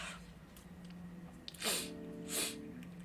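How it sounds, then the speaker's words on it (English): Two sharp sneezes from one person, close and loud, the second a moment after the first, with faint breathy sniffling between them and no talking. "just please, just let me sneeze already."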